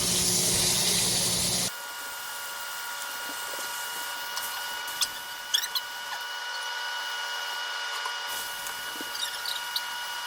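Beef pot roast searing in a pan: a loud, close sizzling hiss for under two seconds, then a quieter steady hiss with a few faint clicks and taps.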